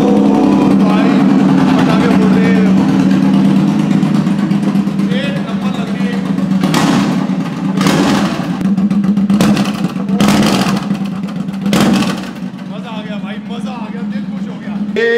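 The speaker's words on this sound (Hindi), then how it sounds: "तो ये क्या है भैया, इंट्रूडर है मेरे ख्याल से सलमान खान वाली।" A Suzuki Intruder 1800cc motorcycle rumbles at idle and revs up in bursts nearby, the engine drone running under steady conversation in Hindi, with several sharp clattering bursts in the second half.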